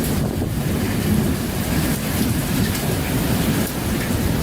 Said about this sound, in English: Watch this terrifying thunderstorm.